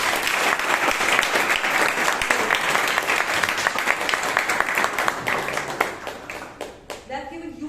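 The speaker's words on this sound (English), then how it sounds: "Let's give him a huge round of applause." Audience at a Bangalore Toastmasters club meeting breaks into dense, sustained applause from many hands, loud and steady before thinning out toward the end, with scattered last claps.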